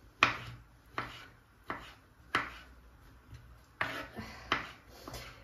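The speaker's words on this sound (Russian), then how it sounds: "все грибочки сейчас перережем" A knife chops mushrooms on a board in a home kitchen, about eight sharp, evenly spaced cuts close up, with no talking.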